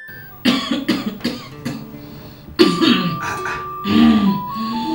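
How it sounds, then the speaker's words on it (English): A person coughs several times in quick succession, then clears the throat with longer rasping coughs, close and loud, with faint steady tones in the background. "So the cough and vomiting still persists?"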